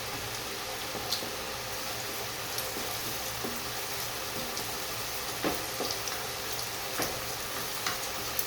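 Two beaten eggs fry in a pan with a continuous, moderate sizzle and hiss. Small spattering pops break through now and then.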